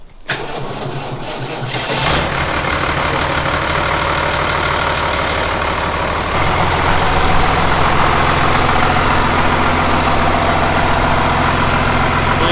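A 3350 tractor engine cranks over for about two seconds, catches and settles into a loud, steady, rough idle close by, rising slightly in level partway through, with no voices over it.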